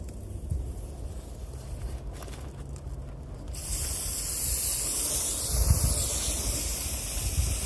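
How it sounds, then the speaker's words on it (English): Repeated hissing bursts of a handheld spray bottle misting water onto a ceramic-coated car panel treated with Turtle Wax, Adams and Meguiar's sprays, outdoors in the afternoon, getting louder and fuller partway through. "let's spray some water on here, see how they're behaving"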